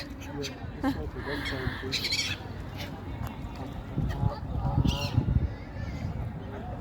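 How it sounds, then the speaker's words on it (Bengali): Ducks quack and honk in bursts at close range while feeding at Sandwell Valley Country Park in England, mixed with outdoor chatter and background noise. "এখানে হাঁসগুলি দেখেন কি সুন্দর খাইতেছে"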